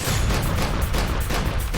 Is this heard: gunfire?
yes